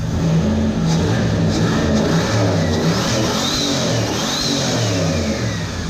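A turbocharged Chevrolet Corvette with a slightly cammed engine revs loudly and steadily, its rough, loping engine note rising and falling, with faint turbo whistles coming through the roar.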